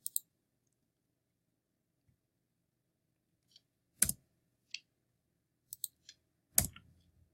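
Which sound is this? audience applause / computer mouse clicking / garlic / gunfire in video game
computer mouse clicking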